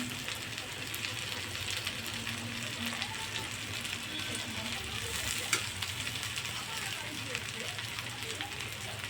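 Potatoes and spices fry in a pan for a leafy greens dish, sizzling steadily in a close, even crackle while a voice talks over the cooking.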